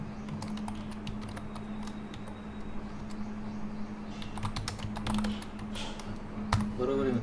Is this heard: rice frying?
no